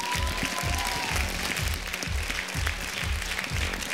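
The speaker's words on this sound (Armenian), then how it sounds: "Հարությունի համար, ծափահարենք։" A studio audience claps on the X-Factor Armenia talent show gala, dense applause carrying on steadily with a rhythmic low thumping underneath.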